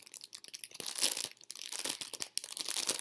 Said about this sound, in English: Sorry about the crinkling noises.